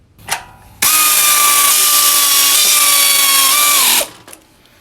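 A power tool tightens engine mounting bolts on a SCAG Turf Tiger zero-turn mower, running as one loud, steady whine for about three seconds, with brief clicks before and after.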